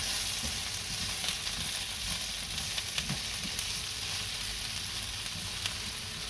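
Potato pieces sizzle in hot oil in a pan, a soft continuous crackle with occasional scrape and clink as they are stirred, fairly quiet and without voices.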